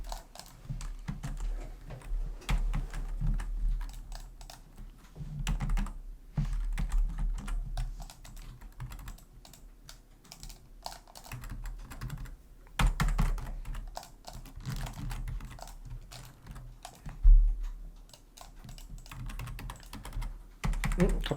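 Steady typing on a computer keyboard at a desk, irregular runs of soft clicking keystrokes with brief pauses and a few sharper taps, fairly quiet and close with no talking.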